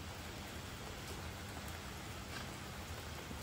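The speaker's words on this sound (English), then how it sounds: "But trying to get out the rain." Steady rain falling, a continuous soft hiss of drops with no breaks, faint and fairly distant, no voices.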